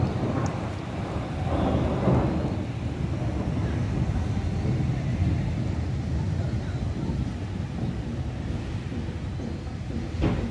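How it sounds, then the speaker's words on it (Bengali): Rain falls on a dark, stormy afternoon in Sylhet, heard as a constant broad wash with deep rumbling and wind buffeting underneath, with no clear single thunderclap. "বৃষ্টি অলরেডি শুরু"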